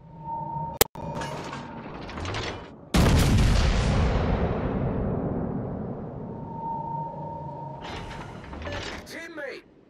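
Naval guns and artillery boom in a warship video game, a sharp early shot followed by a loud sustained salvo of heavy fire and rumbling, with mechanical clanks and a voice speaking under the noise.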